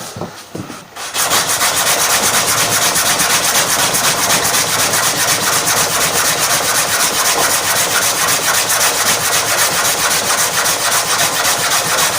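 Steady, continuous hand sanding of a wooden guitar fretboard to shape its radius, a loud, close rasping rub that runs without pause after a brief quiet start.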